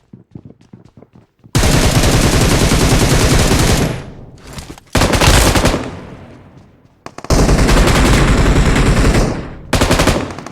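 Automatic Barrel gun fire in a battle-royale shooter, sustained loud bursts several seconds long separated by brief pauses, close and dominant with no talking.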